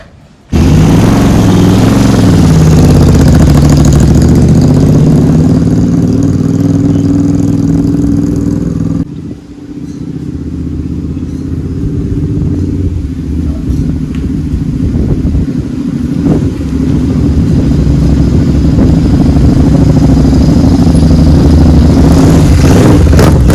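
Motorcycle engine on a short test ride down a lane and back after a handlebar fitting, loud and close, steady running with a brief dip in the middle before picking up again, no speech.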